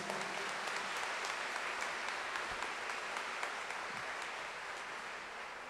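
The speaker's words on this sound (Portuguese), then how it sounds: "E aplauda essa verdade, Deus." A church congregation applauds during a Catholic homily, a soft, distant wash of clapping that carries on evenly throughout, with no speech over it.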